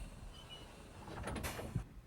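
School bus doors being checked during an evacuation safety inspection, sliding with a soft hiss and ending in a short thump, faint and without talk.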